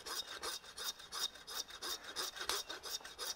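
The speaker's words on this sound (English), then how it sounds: "You can do this all at home with your normal meat saw." Hand meat saw cutting through a Wagyu short loin: steady back-and-forth rasping strokes about three per second, close and fairly quiet, with no voices.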